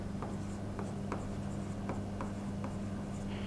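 A pen writes an accounting entry on paper, a close, soft scratching with repeated short strokes at an even pace, quiet and with no voice.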